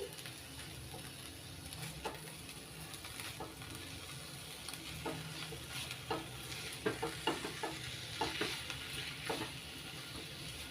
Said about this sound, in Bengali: সব কিছু একসঙ্গে ভালো করে মিশিয়ে নিচ্ছি